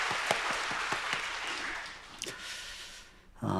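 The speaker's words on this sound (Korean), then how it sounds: "우리 모든 부모님들께 감사의 박수를 드리도록 하겠습니다" A church congregation at a Sunday worship service applauds in thanks to parents, a broad wash of clapping in a large room that fades out near the end before a low sound enters.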